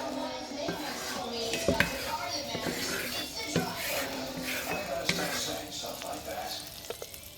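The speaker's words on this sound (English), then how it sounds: "spread your butter around in the pan, and then you're going to add your garlic" Garlic in melted butter sizzles in a pan with a steady frying hiss, broken by clinks and scrapes of a utensil against the pan, while a voice talks nearby.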